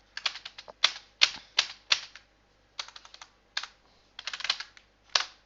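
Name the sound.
typing code on a computer keyboard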